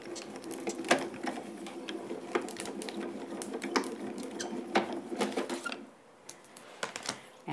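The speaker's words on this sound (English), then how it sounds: "Pass it through the grand caliper." A card die sandwich with plates and a shim is cranked through a Grand Calibur die-cutting machine, giving a steady ratcheting, clicking mechanical whir at moderate volume that stops near the end.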